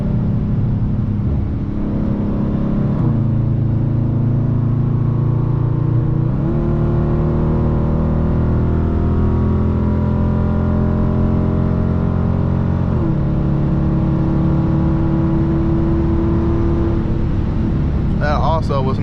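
A Dodge Charger R/T with a 5.7 Hemi accelerates from inside the cabin, its engine drone climbing through several gear shifts with brief dips between them, loud and steady, and there is no talk.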